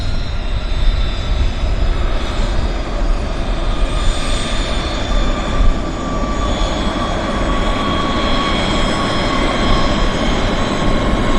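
A Mexican-registered Hawker Siddeley HS 125 business jet departs from Vancouver Airport, with loud, sustained jet engine roar and whine filling the whole stretch and no one speaking.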